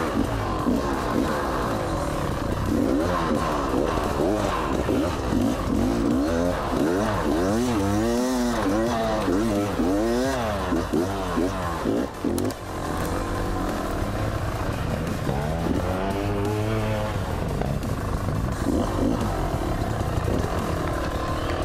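A cross trainer motorcycle on a forest trail hill climb revs hard and continuously, its engine pitch sweeping up and down repeatedly as the throttle opens and closes, loud and close throughout.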